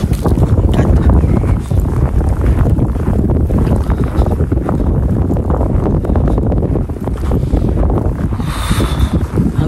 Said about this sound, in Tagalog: Grabe, lakas pa ng hangin